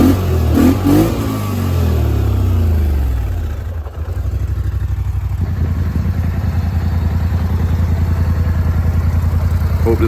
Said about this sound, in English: She revs good. You can rev the shit out of her.